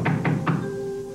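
Three quick knocks on a door come in an even rhythm, close and fairly loud, followed by a faint lingering hum.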